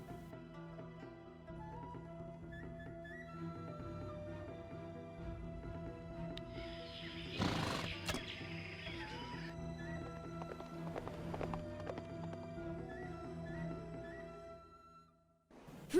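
Horses in the Battle Realms strategy game, a quiet steady clip-clop of hooves running beneath game music, with a brief louder burst of whinnying and commotion partway through before fading out.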